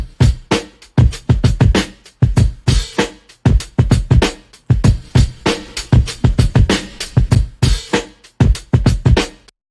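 Drum track run through an audio gate effect, with punchy, tightly clipped hits in a steady, driving rhythm, each decaying quickly into near silence, loud and continuous throughout.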